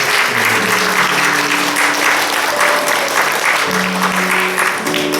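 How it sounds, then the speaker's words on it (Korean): Clapping fills a church during a Sunday service as the congregation welcomes a newcomer, steady and loud, with a voice briefly talking underneath partway through. "박수 좀 하세요."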